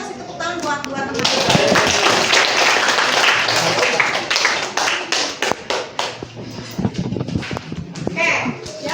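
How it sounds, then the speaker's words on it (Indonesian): Schoolchildren in a classroom clap for two classmates, a burst of loud, dense clapping that builds after a second, then thins into scattered claps and taps as young voices chatter. "kita kasih tepuk tangan buat dua teman"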